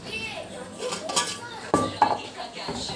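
Utensils, pots and dishes being arranged by hand produce close clinks and clatters, with a couple of sharp metallic knocks standing out, while a voice talks faintly in between.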